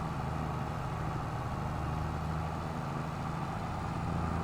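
Steady low rumble of a John Deere 8RX tractor engine in a farming simulator, idling or pulling evenly at constant loudness, with no voices over it.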